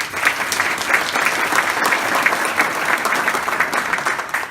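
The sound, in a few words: audience applause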